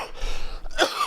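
A man's harsh early-morning cough clearing phlegm, one raspy burst followed by a second, sharper cough, close and fairly loud with no talking.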